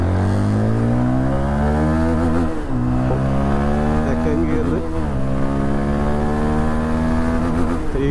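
Zontes GK350 motorcycle engine while riding, a steady loud drone with rising pitch as it accelerates, dipping briefly at gear shifts and climbing again, running continuously throughout.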